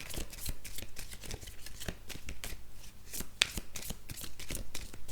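Oracle cards are shuffled by hand in a steady, close riffle of papery slaps and flicks that runs without pause, with one sharp snap partway through and no talking.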